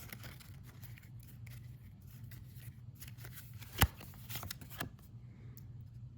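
Playing cards are handled and shuffled during a tabletop war board game, soft quiet riffling and papery flicks close by, with one sharp tap and a few brief clacks near the middle.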